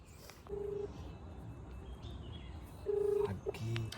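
Telephone dialing tones while placing a call, a few short electronic beeps at irregular intervals over faint background noise, with no voices.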